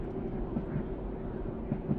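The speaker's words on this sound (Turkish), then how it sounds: "motor gücünü tamamen kesiyorum" A diesel railcar in the Class 112 train simulator game hums with a steady low rumble and faint tonal drone as its engine power is cut, and the train coasts on, continuous and close.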